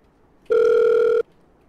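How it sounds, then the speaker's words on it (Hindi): A single phone ringback tone during a call, one steady electronic beep lasting under a second, loud and clean against near silence. "तू ही फोन कर ले फिर मार्टिन को कर ले"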